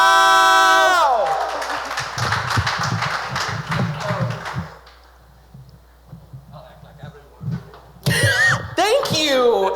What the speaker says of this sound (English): Please give a round of applause for our next artist